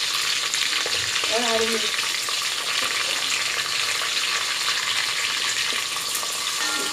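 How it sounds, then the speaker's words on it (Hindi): Whole cumin, dried red chillies and green chillies frying in hot oil for an Indian sambar, a steady bright sizzle running throughout at close range, with a voice speaking briefly over it. "हम इसको फ्राई करेंगे।"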